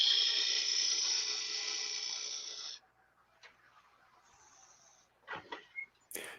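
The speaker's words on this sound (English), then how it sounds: "Now I'll use the skew to straighten up the shoulder here." A skew chisel cuts wood on a lathe while straightening the shoulder of an acorn box, giving a steady, close scraping whir that stops abruptly, followed by a few brief knocks and clicks.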